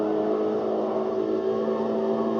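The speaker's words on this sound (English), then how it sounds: "so listen to the engine noise" A Porsche Cayman racing car engine holds a high, steady rev, its buzzing drone layered with sharp harmonic tones. The sound is loud and constant for the whole moment, with no speech over it.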